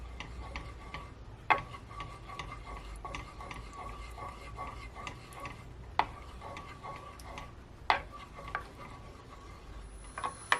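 Honey being stirred into buffalo wing sauce makes light, repeated clicks and taps of a utensil against the bowl, spaced irregularly over a low kitchen background with a few sharper knocks.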